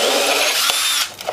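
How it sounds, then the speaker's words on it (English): A power drill whirs steadily at high speed, a continuous close-up motor whine that cuts off near the end. "Rotate the drill, rotate the drill."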